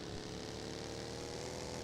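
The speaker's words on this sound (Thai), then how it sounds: "เสียงเครื่องบินมันเหมือนรถกระบะ" A steady droning propeller-plane engine in a video game hums continuously, even and unbroken throughout, with a buzzing, slightly rough tone.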